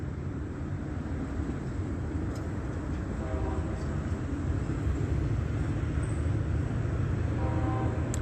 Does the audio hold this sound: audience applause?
no